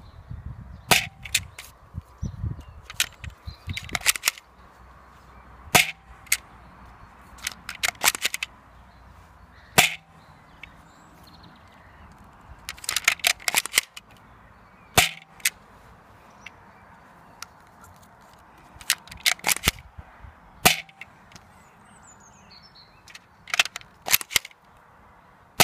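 A BOOMco Far Shot toy blaster fires repeatedly during a range test, each shot a sharp, loud snap followed by clicking and clattering between shots, in an otherwise quiet outdoor setting.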